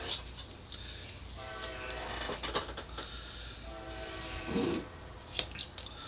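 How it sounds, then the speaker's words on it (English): A train horn sounds in sustained harmonic blasts from a distance, with rolling rail noise underneath as the train passes; the horn swells twice and fades, with a few faint knocks and clicks in the foreground. "And I'm sorry about the train."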